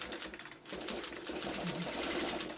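A sewing machine stitches fabric for a pet bed, giving off a rapid, continuous mechanical chatter at close range that is fairly quiet and hesitates only briefly once.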